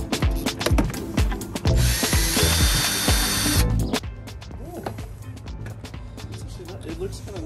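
Power tool backing screws out of the fairings on a homemade electric mini motorcycle powered by Tesla batteries, a close whirring burst of a couple of seconds amid clanks and handling noises, with people talking throughout.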